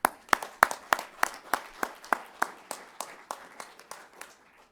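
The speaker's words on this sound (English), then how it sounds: "Please join me in applauding the work of that particular team as well." An audience at the NASA Headquarters Honor Awards ceremony breaks into applause, a burst of sharp claps that thins out and fades over about five seconds.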